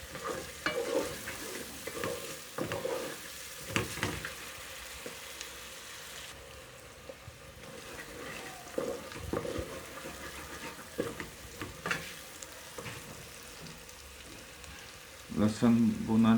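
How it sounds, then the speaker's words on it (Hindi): Garlic and ginger paste sizzles in a pan for turnip bharta, with steady close frying and repeated scraping stirs throughout, and a louder clatter near the end. "लहसुन भुना जा रहा है, अदरक भी।"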